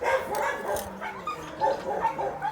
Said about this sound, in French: Ça, c'est les vieux chiens.